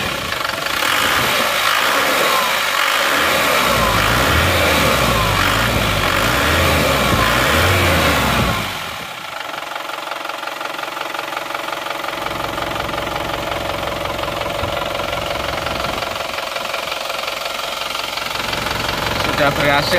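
Isuzu Panther pickup diesel engine running loud and rough with a rhythmic diesel knock, then dropping to a quieter steady idle clatter partway through, with people talking over it.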